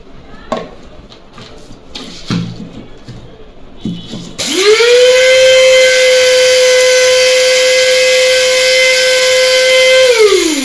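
A high-power electric spice grinder grinding cumin kicks in after a few soft clatters. It spins up into a loud, steady, whining drone that holds unbroken for several seconds, close and dominant.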